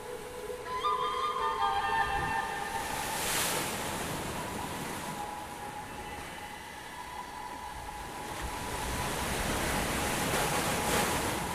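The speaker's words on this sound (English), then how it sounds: "Winds drawn into the monsoon system stir up the Arabian Sea, whipping it into a fury and dragging up cold water from its depths." Rough Arabian Sea churned by strong monsoon winds, a steady roar of breaking waves and surf with gusting wind across the microphone, continuous and fairly loud throughout, no voices.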